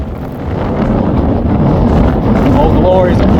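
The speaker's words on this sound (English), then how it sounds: "whew, man, it's fucking windy" Strong outdoor wind roars steadily into the microphone with heavy buffeting at a glycol skid start-up site, loud and continuous throughout.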